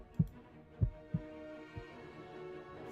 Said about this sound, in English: A silence so thick I could hear my heart beat.